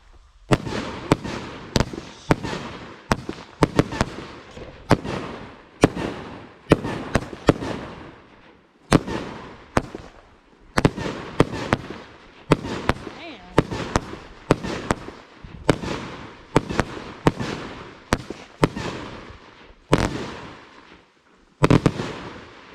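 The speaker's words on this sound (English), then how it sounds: "Do I hear fireworks? When are the big ones?" Outdoor fireworks burst one after another in a loud, irregular barrage, sharp booms and crackles separated by brief pauses, some shells louder than others, with no clear voices.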